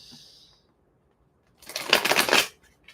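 Tarot cards are shuffled by hand, a brief close riffling burst lasting under a second after a near-silent pause, with a faint earlier hiss.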